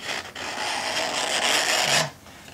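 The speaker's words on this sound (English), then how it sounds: "We're just scraping the surround off of the cone." Old foam surround scraped off the cone of an Infinity RSa 10-inch woofer during a refoam repair, a continuous close rasping scrape lasting about two seconds with no talk.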